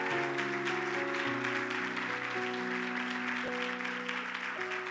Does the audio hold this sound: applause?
yes